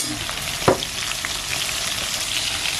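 Pieces of hilsa fish for a mustard hilsa dish sizzle steadily in hot oil in a pan on the stove, with one brief louder crackle and spit early on.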